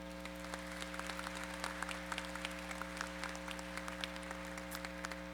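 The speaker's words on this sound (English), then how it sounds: "Please give yourself a round of applause." High school graduation audience applauding, many hands clapping in a steady, somewhat distant wash over a constant hum, sustained for over five seconds.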